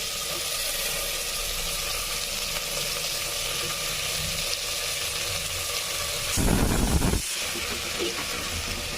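Onions and tomatoes with chopped eggplant sizzle steadily in a hot pan, a continuous soft hiss broken near the end by a brief louder burst of crackling.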